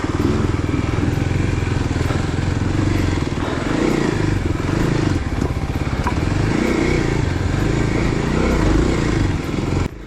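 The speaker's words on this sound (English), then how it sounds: "this KLX Dual Sport handled the terrain with no problem at all" A Kawasaki KLX dual sport motorcycle rumbles loud and close on single track in New Mexico, its engine pulsing unevenly with throttle changes while rattles and thumps from the rough terrain break through.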